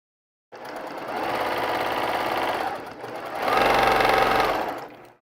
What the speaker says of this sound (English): And I'm going to go ahead and sew this one.